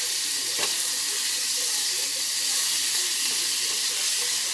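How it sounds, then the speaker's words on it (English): Minced garlic, about four cloves, cooking in a pan while brisket is prepared, giving a steady, even sizzle that holds alone without talk. "we're going to add about 4 cloves of minced garlic. And we're just going to cook that for about a minute here."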